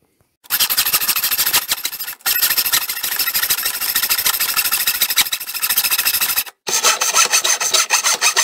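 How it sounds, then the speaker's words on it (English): A mitre saw cuts wood for a workshop cart, its loud motor whine running steadily, stopping briefly twice, then resuming. "I'll just go and cut those on the mitre saw now"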